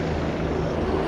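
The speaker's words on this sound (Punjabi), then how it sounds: "ਤੇ ਇਹ ਹੈਲੀਕਾਪਟਰ ਜਿਹੜਾ ਤੁਸੀਂ ਦੇਖ ਰਹੇ ਹੋ ਇਹ ਪੁਲਿਸ ਦਾ ਤੇ ਪੈਟਰੋਲਿੰਗ ਕਰਦੇ ਇੱਧਰ" A police helicopter patrols above crowds gathered for Sydney's New Year's Eve celebrations, its rotors and engine making a steady, continuous low drone that sounds somewhat distant and holds an even level throughout.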